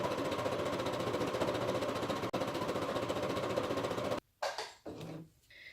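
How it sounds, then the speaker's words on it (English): A sewing machine runs steadily, stitching close satin stitches: an even, fast mechanical whir held for several seconds before it stops, followed by a few brief clicks and taps. "Get those stitches closer together"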